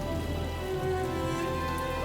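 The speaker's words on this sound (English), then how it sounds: "A summer rain fell that night" Summer rain falling at night over a Civil War battlefield, a steady, dense patter of drops on the ground, continuous and even with no voices.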